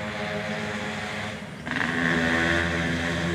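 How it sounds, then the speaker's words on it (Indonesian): A motorcycle runs along a nearby road beside a bamboo grove, its engine droning steadily and then swelling louder as it draws closer and passes. "terdengarkan suara motor teman-teman"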